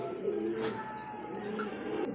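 Soft, low pigeon cooing continues steadily, with a faint higher call and a little background noise, and no talking over it.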